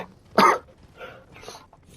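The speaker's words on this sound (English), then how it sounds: "my nose just went all like thingy, like I was gonna sneeze and then I didn't, and then I coughed afterwards" A single close cough bursts out after a stifled sneeze, one short loud hit followed by two fainter throat sounds, with faint game audio in the background.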